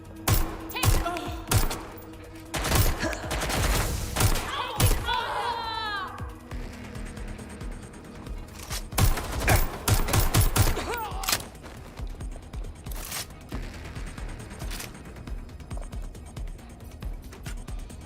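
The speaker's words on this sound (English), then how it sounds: "I'm getting shot at here!" Gunfire in the video game Watch Dogs Legion, loud bursts of shots and thuds scattered through the scene, clustered early and again near the middle, with game voices and effects overlapping.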